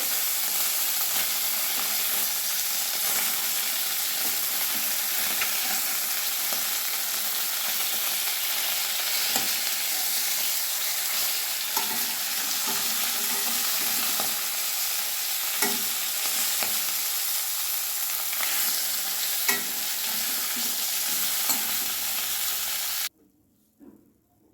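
Steady, loud sizzling of snakehead fish pieces frying in hot oil, with occasional pops and crackles, continuing for a long stretch before cutting off abruptly.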